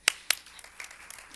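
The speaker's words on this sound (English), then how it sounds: "I'd like to, for us all, to give a round of applause for Mrs." A few scattered claps from a school governing board meeting audience, two sharp claps up front followed by lighter, sparse clapping that trails off quickly.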